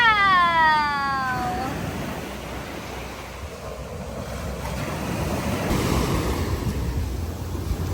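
Steady rushing surf of high ocean waves in Bohol, with heavy wind buffeting close to the microphone, a drawn-out whine at the very start, no talking.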